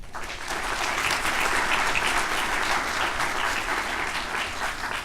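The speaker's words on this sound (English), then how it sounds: "Let us give her a round of applause." An audience at a graduate orientation keynote breaks into applause, a dense and steady round of clapping that stays loud and even throughout.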